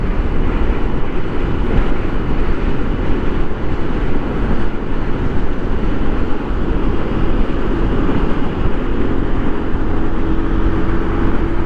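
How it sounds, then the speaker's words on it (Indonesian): Steady, loud rumbling roar of a freight train passing near Mundu, Cirebon, Indonesia, continuous throughout with wind buffeting the microphone and no talking. "Tuh, sebelah sana kereta guys, kereta barang."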